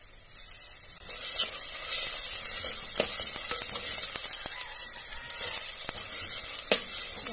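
Onions and tomatoes sizzle steadily in a pan while a semiya egg biryani is cooked in a village kitchen, with a constant frying hiss and occasional louder crackles and stirring scrapes, close up and without talk.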